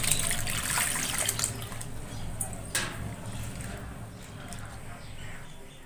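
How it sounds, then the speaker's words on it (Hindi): Water splashing and swishing as urad dal is rinsed in a bowl, a steady wet churning with a brief louder slosh partway through. "अब इसे में हम साफ पानी डाल के फरिया लेते हैं दाल के।"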